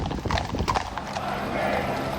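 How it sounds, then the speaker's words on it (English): Police horses' hooves clip-clop on the road at the head of a royal procession for the State Opening of Parliament, a steady close rhythm with crowd and voices talking over it and a brief whinny. "Here we have the police horses coming at the front of the royal procession."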